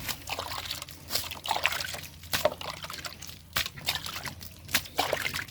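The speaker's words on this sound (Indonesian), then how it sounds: "kita siramkan di sekitar pohonnya" Water trickles and splashes steadily onto soil around the base of an avocado tree, with brief louder gushes and sloshing bursts, close by and without talk.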